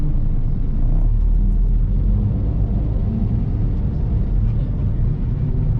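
A car drives through night traffic between Nana and Asok in Bangkok, its steady low engine and road rumble filling the cabin continuously with no pauses.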